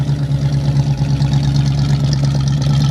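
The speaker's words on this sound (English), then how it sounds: "Dual exhaust sounds pretty good in this one." A 1970 Ford Mustang Fastback V8 with dual exhaust idles with a deep, steady exhaust burble, close and loud, a low rumbling pulse that holds even throughout.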